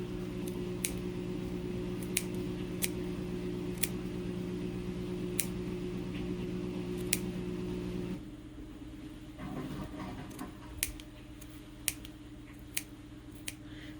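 Scissors snip through yarn loops wrapped around a fork to make a pom-pom, a series of sharp separate cuts spaced a second or so apart over a low steady hum.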